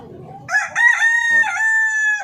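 Hungry chickens crowing and calling loudly at close range, with a drawn-out rooster-like call rising over softer clucks.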